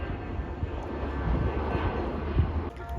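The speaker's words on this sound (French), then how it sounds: "regardez l'avion là" A fixed-wing airplane passes overhead at the 24 Hours of Le Mans, its steady engine drone sitting in the broad crowd and track ambience for about three seconds, with a faint voice in the mix.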